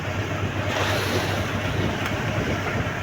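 Steady roar of sea waves and wind buffeting the microphone after a spell of bad weather, continuous and loud with no voices.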